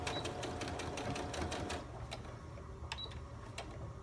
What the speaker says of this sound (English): So you're just going to sew straight down again on 9 sets of this.